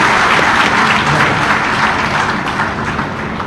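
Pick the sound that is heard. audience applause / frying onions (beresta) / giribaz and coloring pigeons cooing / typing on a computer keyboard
audience applause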